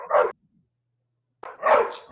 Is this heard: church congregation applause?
no